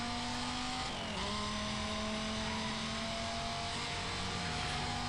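A car drifts in the 2005 racing game Need for Speed Most Wanted, its engine droning loud and steady with shifting revs and a drop in pitch midway, and no speech.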